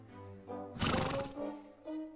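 A horse named Chili whinnies in a short, loud, quavering burst in the middle, framed by quieter tonal sounds before and after, in an animated series soundtrack.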